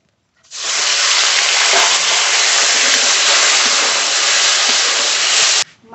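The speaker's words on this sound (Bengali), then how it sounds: "মাছ সব ভেজে নিয়েছি" Fish hits hot oil in a pan with a sudden loud, steady sizzling hiss that holds evenly for about five seconds, then cuts off abruptly.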